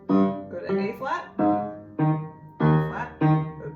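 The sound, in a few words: left-hand notes of the second line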